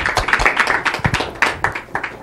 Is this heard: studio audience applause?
yes